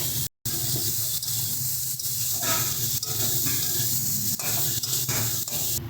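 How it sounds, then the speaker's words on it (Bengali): Pre-fried dried phasa fish stirred into softened vegetables with tomato and home-grown flat beans in a pan, a close, steady sizzle with repeated scraping stir strokes. "এবারে আমরা দিয়ে দিচ্ছি আগে থেকে ভেজে রাখা মাছগুলো মাছটা দিয়ে ভালো করে মিশিয়ে নেব সবজির সাথে"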